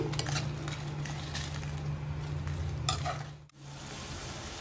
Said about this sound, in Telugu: జీడిపప్పులు ఇవి బాగా కొంచెం వేగాలి.